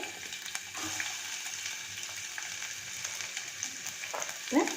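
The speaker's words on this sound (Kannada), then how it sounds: "ಎಣ್ಣೆ ಕಾದಾಗ ಅದಕ್ಕೆ ಹೆಚ್ಚಿ ಇಟ್ಕೊಂಡಿರುವಂತಹ ಈರುಳ್ಳಿ ಹಾಕೊಳ್ಳಿ" Chopped onions sizzle steadily in hot oil in a pressure cooker while sambar is being made, a continuous close frying hiss with a few stirring scrapes near the end.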